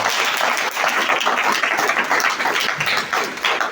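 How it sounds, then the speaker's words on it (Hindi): A church congregation at a sermon claps loudly in praise, a thick, continuous burst of hand clapping that holds steady for several seconds without speech over it. "सो हम अपने जिंदा खुदा के लिए जोरदार तालियां"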